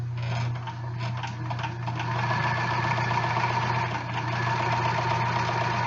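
Sewing machine stitching steadily through two very thin layers of batting, a continuous mechanical motor hum with a strong low drone and busy rattling texture, close and fairly loud throughout.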